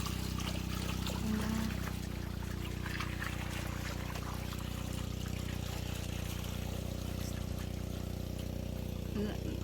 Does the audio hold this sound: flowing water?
yes